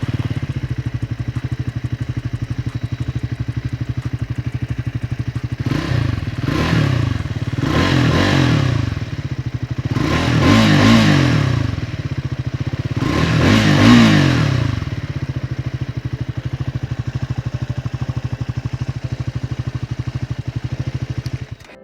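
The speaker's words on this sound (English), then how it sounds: "the twin barrel exhaust that the Scrambler gets, and it does change the sound of the motorcycle as well" A Triumph Scrambler 400 X motorcycle with twin barrel exhaust idles with a steady low thrum, then blips the throttle in four sharp revs that rise and fall back, heard close and loud with no talking.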